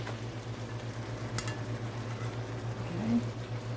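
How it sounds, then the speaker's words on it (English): Rice scraped from a container into a pan of hamburger casserole and stirred, giving a steady close sizzling, frying hiss with soft scraping and stirring over a constant low hum. "Add our rice. Scrape it all out."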